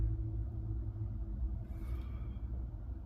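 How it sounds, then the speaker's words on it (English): A neighbor's truck rumbles outside in a steady low drone, faint and distant. "Oh, my neighbor's out with his truck."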